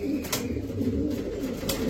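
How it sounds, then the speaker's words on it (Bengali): A red khaki female pigeon coos softly in a low, steady murmur against faint background noise, close by and without talk. "লাল খাকি একটা মাদি কবুতর।"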